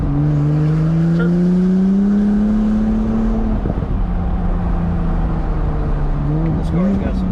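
A sports car's engine revs on a winding mountain road, pitch climbing steadily then dropping as gears change, with a loud continuous drone and people talking over it.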